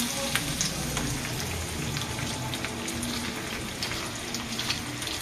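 Fish hits hot oil in a home kitchen pan, giving a steady, fairly loud broadband sizzle with crackling pops that holds evenly throughout, with no talking.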